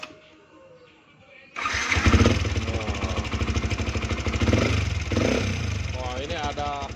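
A Yamaha Vixion motorcycle engine, faulty and excessively noisy, starts and idles with a rough, rapid helicopter-like pulsing rumble, loud and close, with people talking over it.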